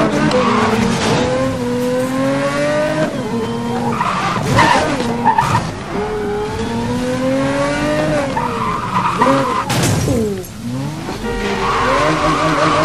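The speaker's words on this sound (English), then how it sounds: "One of the fastest accelerating cars in the world." Car engine in Need for Speed Most Wanted screaming through rising gear sweeps as it accelerates hard, with tire skids and squeals, loud and continuous, no talking.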